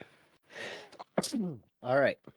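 A single sneeze bursts out amid casual conversation in a podcast-style discussion, short and close, with voices talking before and after it.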